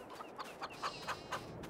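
Chickens cluck in Farming Simulator 22 on the Erlengrat map, a run of short repeated clucks at an even pace, moderately close and fairly faint, with no talk over them.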